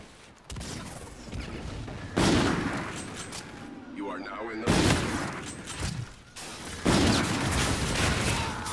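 Sniper rifle fire in the video game Call of Duty Infinite Warfare: three loud, booming shots a couple of seconds apart, each with a long rumbling tail, close and dominant over a noisy game background.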